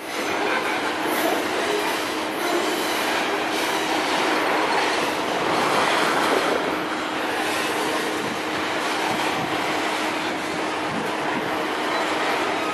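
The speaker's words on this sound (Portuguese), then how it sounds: "Esse trem está bem comprido." A long MRS freight train climbs the Canguera ramp, its steady, loud rumble of wagons and wheels filling the whole stretch without any break and with no voices.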